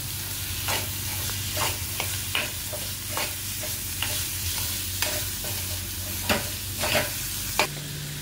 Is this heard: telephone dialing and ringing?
no